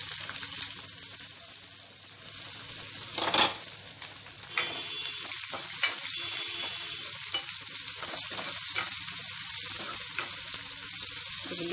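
Onion pieces frying with dried red chillies and garlic for a brinjal and okra dish, a continuous crackling sizzle with a few sharp utensil knocks and stirs near the start, no talking.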